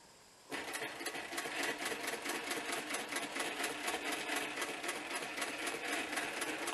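A sewing machine runs steadily, stitching a bushcraft working vest, its fast, even clatter close and unbroken for several seconds after starting up.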